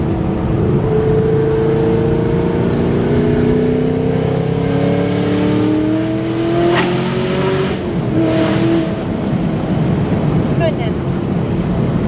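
A 2018 Chevrolet Camaro ZL1 1LE engine revs and accelerates loudly and continuously through rising gear pulls, heard from inside the car with occasional voices over the drone.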